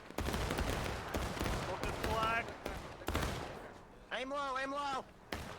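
Gunfire crackles through a large-scale battle video game, repeated volleys and sharp shots close and loud, with a shouting voice and tonal horn or music calls breaking through.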